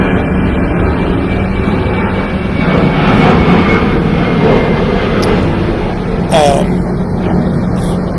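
An airplane passes overhead as a loud, steady engine roar that fills the whole stretch, with a brief squeak and some background noise partway through.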